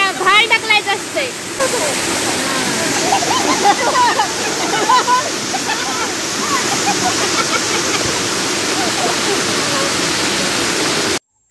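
Savdav waterfall in Kankavli taluka pours in a steady, loud broadband rush that stays constant throughout, with faint voices and splashing near the start.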